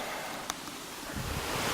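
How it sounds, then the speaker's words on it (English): Small waterfall along the Ozark Trail, a steady broadband rush of falling water heard close and continuous, alone without talk. "Small waterfall."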